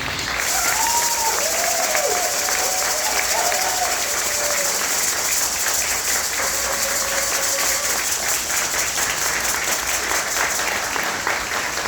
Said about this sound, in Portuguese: Podem bater palmas.